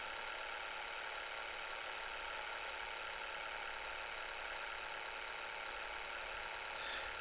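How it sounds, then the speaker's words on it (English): A vehicle engine hums steadily while driving across open countryside in the mobile game Call of Duty Mobile, a faint, even drone with no change in pitch or rhythm throughout. "Now I'm just driving along."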